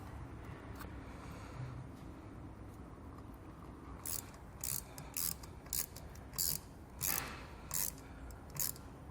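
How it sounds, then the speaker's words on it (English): Trailer connector being fastened to its mounting bracket on a flexo-coil wiring setup, heard as a series of about nine sharp, evenly spaced ratchet clicks in the second half over a steady background hiss. "We can go ahead and secure the trailer connector to our mounting bracket."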